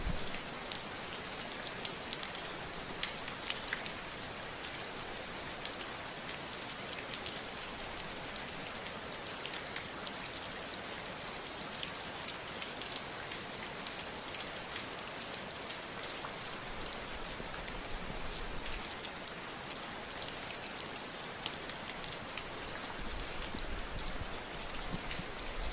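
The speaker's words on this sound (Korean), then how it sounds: "지금 여기 빗소리가 있음을" Rain falls steadily in an even, hissing wash that carries on without break, fairly soft and with no voices.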